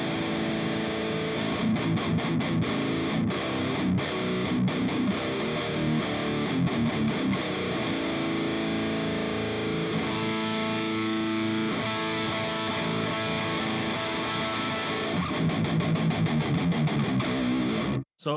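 Seven-string electric guitar through an ENGL Savage 120 amplifier on the lead channel, heavy high-gain distortion, loud and continuous with chugging riffs and sustained chords that cut off sharply at the end, no voice.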